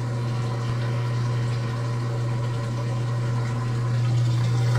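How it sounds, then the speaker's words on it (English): Water draining from a brand new Speed Queen TC5 top-load washing machine, a steady low pump hum with running water, continuous and fairly loud throughout. "The water is draining there."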